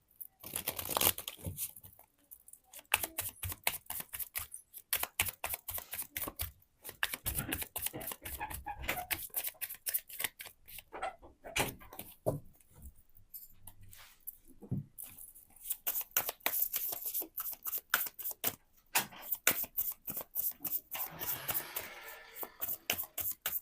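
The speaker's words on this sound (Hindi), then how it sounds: "सबसे पहले मैं कार्ड शफल करती हूँ" Tarot cards are shuffled in rapid crisp riffles and flicks, close and repetitive, in bursts with short pauses between them.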